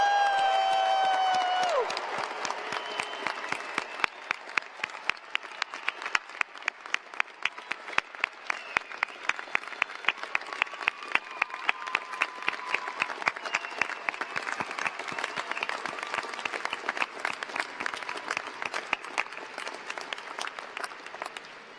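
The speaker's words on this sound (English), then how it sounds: "One huge last round of applause for everyone." Applause with cheering from a crowd at a civil and environmental engineering graduation celebration, starting after a brief tone and building into dense sustained clapping that runs steadily for about twenty seconds with scattered whoops mixed in.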